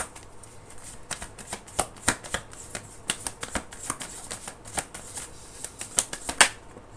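A deck of tarot cards being shuffled by hand, giving a run of crisp riffling snaps and flicks at an uneven rhythm, close and clear, with no talking.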